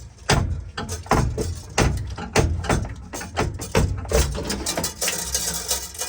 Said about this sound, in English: I remove it.